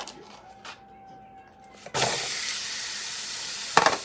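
A steak hits hot oil in a pan and bursts into a loud, steady sizzle that holds after a quieter start with faint kitchen sounds, and a brief clatter comes near the end.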